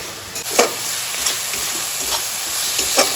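Chicken pieces for kosha being stir-fried in a pan, a steady close sizzle and hiss with a few soft scrapes and stirring knocks rising out of it, heard on its own with no voices.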